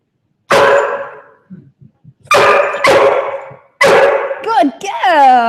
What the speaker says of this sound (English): the dogs will automatically bark and bark and bark for help